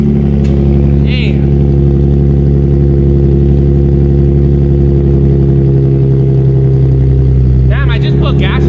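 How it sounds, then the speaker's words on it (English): A Ford Mustang GT cold-starts and holds a loud, steady rumbling idle with deep low harmonics at a car meet, with brief rev swells, a short exclamation near the end. "let's give her a little cold start. Let's hear her moan"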